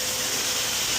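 A spray bottle mists water onto a glass board used for cutting window tint for a campervan. It makes a steady, close hiss that lasts the whole second, with no voices over it.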